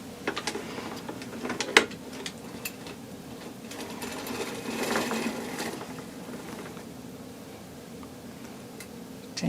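A hand-cranked circular sock knitting machine runs with a continuous mechanical clicking and rattling whir, close and moderately loud, with a sharper clack near the start.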